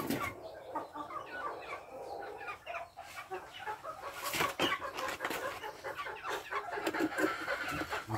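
A female pheasant brooding on her eggs gives repeated soft, fowl-like clucks, close and fairly steady, with a few sharper calls toward the end.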